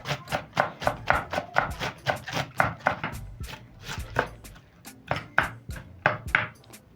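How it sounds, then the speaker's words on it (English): A knife slices a quarter of cabbage on a cutting board in quick, rhythmic strokes, each cut a crisp crunchy thud, close and clear with no talking. "I'm done slicing the other quarter of the cabbage"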